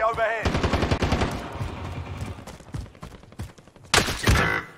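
Loud, close automatic gunfire from the Call of Duty Warzone video game, rattling bursts and heavy thuds mixed with game voice lines and other in-game effects, with a sharp explosive crack near the end.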